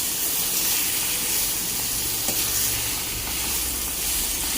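Masala paste with cashews sizzles and fries in a pan, a steady, dense crackling hiss close up that runs unbroken throughout.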